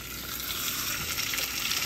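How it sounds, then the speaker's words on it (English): Chicken cutlets sear in hot oil in a frying pan, giving a steady, close, loud sizzle and crackle that runs without a break and with no voices. "I'm going to remove the chicken and place it in the frying pan."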